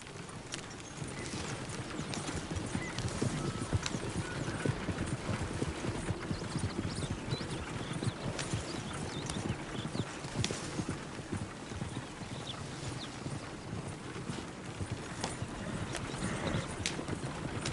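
Hooves clip-clop in a continuous rhythmic gallop in Red Dead Redemption 2, steady and fairly loud over a dense layer of ambient game noise.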